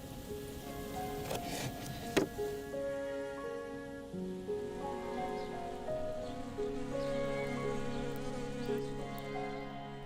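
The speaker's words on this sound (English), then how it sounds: "Xu Guangfan shares some watermelons with his bees." Bees buzzing around hives in the countryside outside Beijing, a steady low drone of many wings with shifting tones, soft and continuous, plus a couple of brief clicks near the start.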